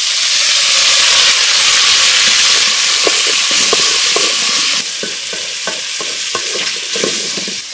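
Onion, ginger and garlic pastes frying in a pan for a gourd and meat curry make a loud, constant sizzling hiss up close, with a burst of rhythmic stirring scrapes in the latter half and no speech.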